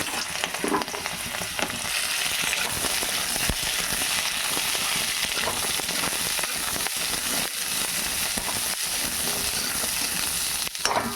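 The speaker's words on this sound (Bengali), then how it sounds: "এবার আমি জলপাইটা তেলের মধ্যে ছেড়ে দেবো।" Olives dropped into hot oil for a chutney fry with a steady, dense sizzle that stays loud and even throughout, broken only by occasional sharper pops and crackles, with no one talking.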